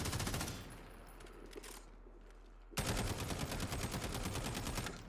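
Rapid bursts of automatic gunfire crackle in Call of Duty Warzone, loud at first, easing to a quieter patch, then a sharp, sustained volley resumes.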